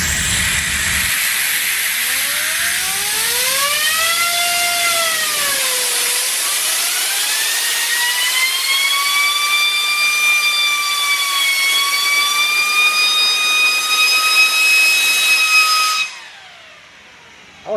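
A high-pitched turbine whine spins up, rising and dipping in pitch, then holds a steady screaming tone with hiss before cutting off abruptly near the end.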